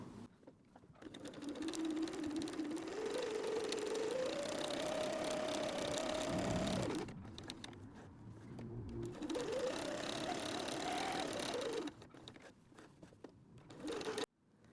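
A sewing machine stitches a fabric water bottle sling in two long runs of fast, whirring needle strokes, separated by a short pause and followed by brief handling sounds, with no talking.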